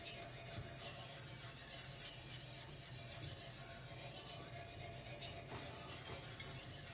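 Knife blade being sharpened at a 15-degree angle on a KAZAK UBR guided sharpener system, a steady close rasping scrape of stone on steel with repeated strokes and no talking.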